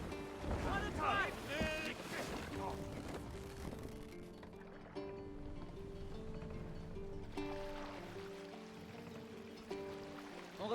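A Viking longship under sail in Assassin's Creed Valhalla, with steady wind rush and water wash beneath a game soundtrack, while voices speak at the start.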